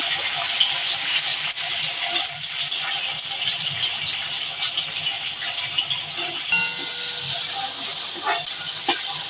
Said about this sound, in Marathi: इथे आपला कांदा छान तेलावरती लालसर होईपर्यंत परतून घेऊया